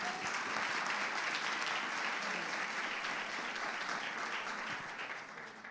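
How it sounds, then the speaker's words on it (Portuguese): A church congregation applauds during a Sunday celebration service, steady dense clapping filling the room for several seconds before easing slightly at the end. "Aplaudindo a Jesus."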